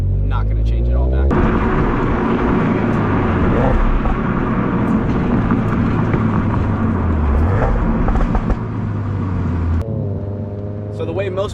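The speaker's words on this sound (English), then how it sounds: "I'll even throw a clip in there of the car popping with the stock exhaust" A stock-exhaust 2022 Subaru BRZ engine runs loud and close, with a steady rumbling drone and scattered sharp pops and bangs through most of the stretch before it settles to a smoother idle near the end.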